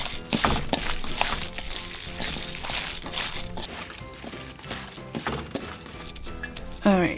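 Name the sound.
mixing pork egg roll filling with oyster sauce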